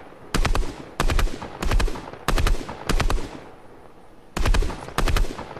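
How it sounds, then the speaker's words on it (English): Burst-fire ABR assault rifle shooting in the Fortnite video game, firing six sharp bursts of rapid rounds in a steady rhythm with brief pauses between, loud and close with no talking. "Then we got the ABR 223, which is really a burst."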